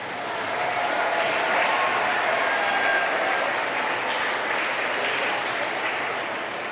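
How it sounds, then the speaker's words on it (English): Sustained applause from an audience at a middle school 6th and 7th grade awards ceremony, a steady wash of clapping that swells in and holds at a fairly loud, even level throughout. "Time for applause."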